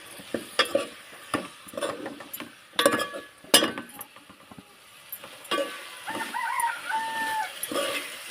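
A rooster crows in the background while cluster beans sizzle in a pan and are stirred with clinking and scraping up close.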